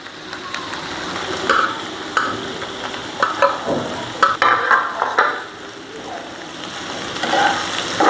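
Spinach and shrimp stir-fried with chopped raw onion in a pan, loud sizzling with repeated scraping stirs in bursts, close up.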